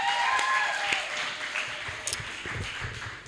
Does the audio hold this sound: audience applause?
yes